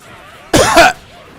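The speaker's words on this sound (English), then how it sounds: "Sorry, I had to blow my nose." A person forcefully blows their nose in one short, loud, breathy burst lasting under half a second, close to the microphone, with quiet room tone before and after.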